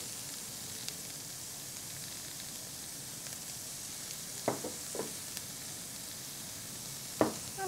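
Carrots cooking in butter in a pan, a soft, steady sizzle and hiss throughout, broken by a few brief scraping stirs or clinks near the end.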